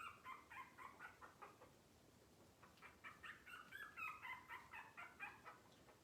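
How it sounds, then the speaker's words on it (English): A small puppy squeaks and whimpers in faint, rapid bursts of high yips, pausing briefly before another cluster of squeals, heard from a short distance in a quiet setting. "You hear that little puppy squeaking?"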